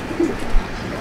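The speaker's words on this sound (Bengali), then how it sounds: "এগুলো সব আমার উড়ানের পায়রা।" Pigeons kept as flying birds in a loft coo softly, a low throaty burble heard close by against a light background murmur, lasting about a second.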